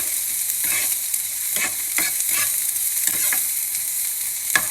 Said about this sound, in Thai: ผัดหอมจ้ะใส่พริกลงไปผัด